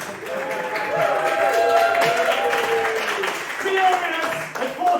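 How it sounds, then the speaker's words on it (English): A theatre audience at a live comedy musical show in the Waterloo East Theatre, London, plays a large baying crowd: a loud, sustained roar of many overlapping shouting voices that swells and holds for about five seconds. "The large baying crowd."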